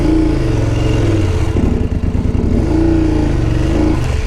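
A motorcycle engine labours up a muddy trail in Nepal, clutch feathered with light throttle, its low drone pulsing and revving steadily throughout, loud and close with some clattering.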